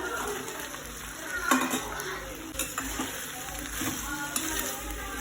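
Fried paneer cubes stirred into a sizzling pan of sauce for home-style chilli paneer, with a steady frying hiss and scraping spoon strokes against the pan, close and continuous, without talk.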